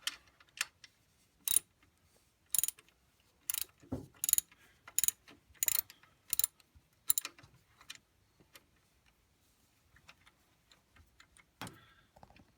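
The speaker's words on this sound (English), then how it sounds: "I'm just going to tighten up the pivot bolt here, bottom of the alternator" Ratchet clicking in short bursts while tightening the alternator pivot bolt on a Toyota Landcruiser, crisp sharp ticks in uneven groups with pauses between strokes, close and clear in a quiet space.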